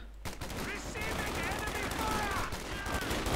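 Automatic weapons fire in the Company of Heroes 2 strategy game, a dense crackle of rapid bursts sounding loud and continuous for a few seconds amid battle noise.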